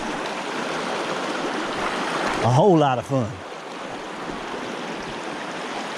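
Steady rush of flowing creek water, close and continuous, while someone picks a way across the stream in the aftermath of Hurricane Helene between Taylors Valley and Damascus; someone speaks briefly over the running water.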